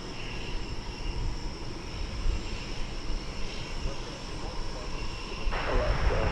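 A long-haul airliner arriving at Dallas Fort Worth after a 9.5-hour flight from the southern hemisphere, its steady engine roar fairly distant and continuous, swelling slightly near the end, with faint voices in the background.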